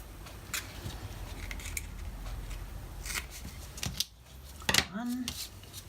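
Scissors gummed up with adhesive snip through foam tape at a craft table, giving a few short crisp cuts spread across the stretch with a sharper snap near the end, close and fairly quiet.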